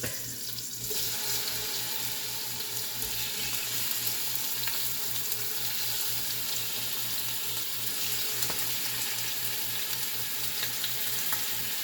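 Pork loin searing in a pot, a steady broad sizzle and crackle that holds evenly throughout with no voices.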